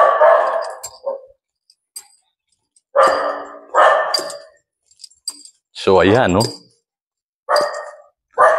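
Dogs bark in short, sharp bursts several times at a housing site, close and loud, with gaps of quiet between them and a person speaking briefly.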